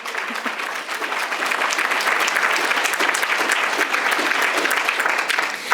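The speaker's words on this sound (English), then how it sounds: "You can clap for that." An audience gives steady, dense applause during a city clerk's civic address, continuous and fairly loud from start to finish with no talk over it.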